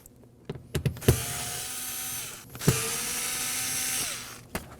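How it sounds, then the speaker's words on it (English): Cordless driver spinning out Phillips screws from a fuel pump access cover on a 2014-2020 Acura MDX, two long steady whirring runs with clicks and taps between them, close and loud. "Using a Phillips screwdriver, we're gonna remove those."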